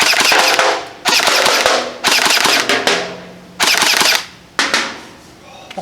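An Out-of-Darts BK-1S foam dart blaster fires full auto in several loud, close bursts of about a second each, rapid mechanical rattling separated by short pauses.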